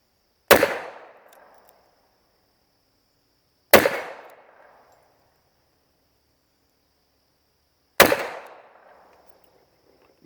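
Three loud, sharp gunshots from a SCCY CPX 380 pistol fired at a target, evenly spaced about three seconds apart, each with a quick decaying tail into silence.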